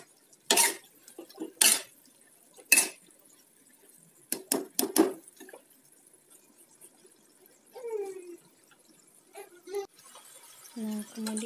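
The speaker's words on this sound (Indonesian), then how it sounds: "Sekarang kita tuangkan dagingnya. Kita aduk lagi." Beef being poured into a pan for black pepper beef and stirred, heard as a few sharp, separate clinks and scrapes of a utensil against the pan in a quiet room, with brief bits of voice later on.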